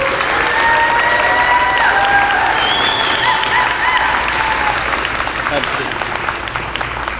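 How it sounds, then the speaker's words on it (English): An audience applauds for a school's 8th grade class at its promotion ceremony, a broad steady wash of clapping throughout with cheering tones riding on top and a voice speaking briefly near the end. "please give them a round of applause"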